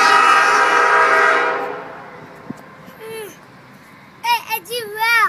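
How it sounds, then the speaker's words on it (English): A train rushes past close by at a tunnel, loud and roaring at first, then fading into the distance, after which children's excited voices ring out. "Did you hear the train?"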